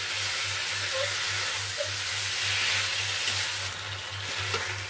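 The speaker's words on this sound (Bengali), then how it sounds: "এই ডাঁটাগুলো দিয়ে ভালো মতো নাড়তে থাকবে যতক্ষণ না ডাঁটাগুলো একটু মজে আসছে।" Vegetable stalks being stirred in a hot pan for a wedding-style chhyachra with fish heads give a continuous, close sizzle and hiss over a faint steady low hum, with no talking.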